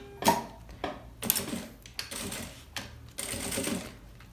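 A sewing machine stitches a plastic bellows seam in short bursts of rapid mechanical clatter separated by brief pauses, close and without talk.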